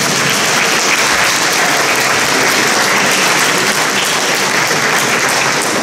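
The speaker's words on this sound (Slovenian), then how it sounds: "In prosim še en aplavz za Dušana" Steady, loud applause from an audience at a regional youth firefighters' quiz competition held in a school, continuous dense clapping with no talk over it.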